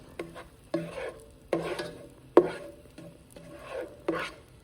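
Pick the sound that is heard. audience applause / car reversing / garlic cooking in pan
garlic cooking in pan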